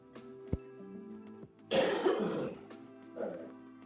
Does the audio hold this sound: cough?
yes